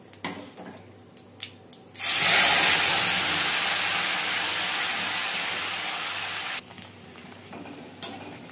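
A dried red chilli and cumin tempering hits hot oil for dal, bursting into a loud, hissing sizzle that holds for several seconds and then stops abruptly, with a few quiet kitchen clinks before and after.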